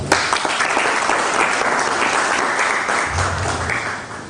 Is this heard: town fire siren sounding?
no